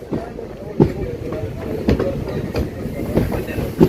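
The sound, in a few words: passenger train moving into platform, Kanhangad to Mangaluru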